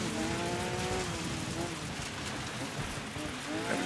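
Porsche 911 RGT race car in Dirt 5 tearing across a dusty dirt track at Colonnata, Italy, engine note rising and falling with gear shifts over steady gravel and tyre roar, loud and continuous throughout.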